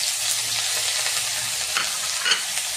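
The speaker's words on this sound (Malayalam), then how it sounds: "കട്ട് ചെയ്ത് വെച്ച സവാളയും കൂടി ചേർത്തു" Chopped onion fries in oil in a pan for chicken biryani, a loud steady sizzle with soft stirring scrapes, and no talking.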